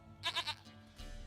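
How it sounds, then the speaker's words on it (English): A goat in The Witcher 3: Wild Hunt bleats once in a short, quavering three-pulse call, fairly faint and alone over quiet game ambience. "Goat of mine, dearest, sweetest goat."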